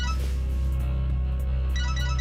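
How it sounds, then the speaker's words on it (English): A phone rings with a repeating electronic ringtone melody over a loud low hum, steady throughout. "Taylor's phone rings this time."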